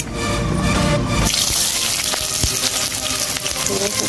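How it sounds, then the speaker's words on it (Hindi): Chopped onion is added to hot oil in a home kitchen pan while making katori idli, bursting into a loud, steady sizzle and crackle that runs without pause. "और अब मेरा तेल गर्म हो गया, इसमें प्याज डाल रही हूँ,"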